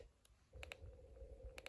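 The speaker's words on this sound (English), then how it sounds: "you hear a clicking sound" Snap Circuits Extreme SC-750 whistle chip with a C3 capacitor placed above it, giving faint, sharp clicks at irregular intervals over a steady low hum as the capacitor discharges.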